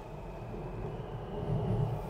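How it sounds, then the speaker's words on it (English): A Metro train rumbles across an overhead bridge in an Old Town Alexandria neighborhood, heard from underneath as a steady, fairly faint low roar that swells slightly toward the end. "Now, you can hear the Metro above us. We're underneath the Metro Bridge."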